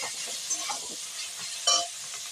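Cumin powder is stirred into a banana flower mixture in a pan for Bengali fritters, producing a soft sizzle with scraping stirs and a brief louder scrape near the end.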